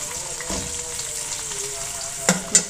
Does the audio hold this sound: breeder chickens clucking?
no